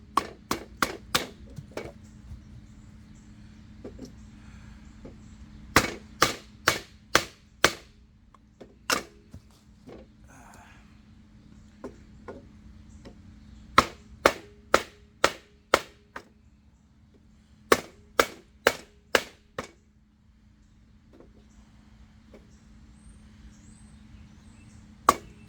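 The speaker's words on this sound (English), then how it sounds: "Again, I'm going real hard into this hard oak here," Steel knife blade chopping into hard oak, a series of sharp, loud wooden cracks coming in quick bursts with short pauses between, close up over a faint steady background hum.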